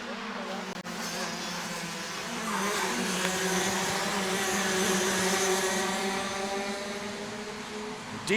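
DD2 racing kart engines buzz loudly at a kart championship race, a sustained high revving drone that swells and holds as karts pass, heard at trackside distance beneath a commentator's voice.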